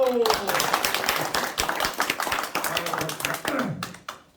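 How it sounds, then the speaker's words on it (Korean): Audience applause at the opening of a Korean negotiation practice conference, a dense, steady run of many clapping hands lasting several seconds and fading out at the end, with a voice briefly heard near the start. "박수!"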